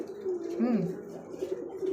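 A dhamasin pigeon gives a single short, near coo against a faint background murmur.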